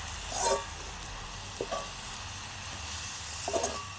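Squid curry being stirred in a pan at home, a few soft scraping strokes over a faint steady sizzle, close and quiet with no talking.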